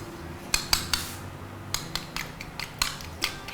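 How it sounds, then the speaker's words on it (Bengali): Eggs are beaten in a bowl, with a run of sharp metallic clicks and taps in uneven bursts, close and fairly crisp, with no voice over them. "ডিমটাকে আমরা ফেটিয়ে নেব, ফেটিয়ে ডিমটাকে তুলে নিতে হবে"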